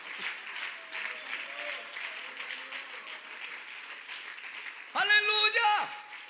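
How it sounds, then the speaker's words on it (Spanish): Church congregation applauding during a Spanish-language sermon, a soft, steady spread of clapping heard in the distance, then a loud spoken voice breaking in near the end. "Dele ese aplauso al Señor bien fuerte."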